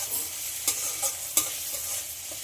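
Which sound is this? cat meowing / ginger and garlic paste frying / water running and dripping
ginger and garlic paste frying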